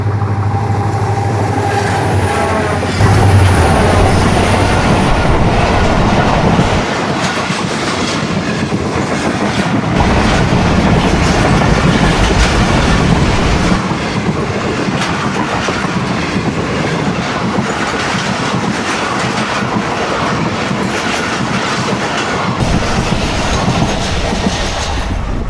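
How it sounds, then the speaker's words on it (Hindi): The down Tezgam express from Rawalpindi to Karachi Cantt runs through Ranpethani railway station at moderate speed, a loud sustained rumble with steady clickety-clack of wheels over rail joints and occasional squeal, the roar holding for the whole passage with no talk. "ये गई है डाउन तेज़गाम रावलपिंडी से चल के अपनी मंजिल कराची कैंट स्टेशन की"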